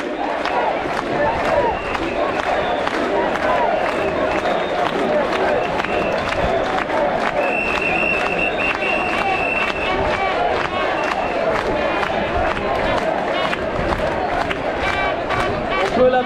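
Large protest crowd at Place du Trocadéro in Paris, at a demonstration against the health pass, cheering and clapping loudly and continuously, with shouts and whistles rising over sustained applause across the whole stretch.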